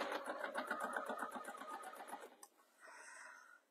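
A sewing machine top-stitches a bag at stitch length three, running in a fast, even pulsing rhythm for over two seconds, then stopping before a softer hiss follows.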